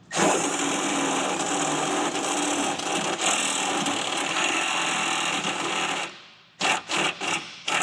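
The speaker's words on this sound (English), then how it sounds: "About to drill right through it." A power drill bores through a Porsche 911 part, running as a loud, steady grinding whine for about six seconds before stopping, followed by a few short bursts.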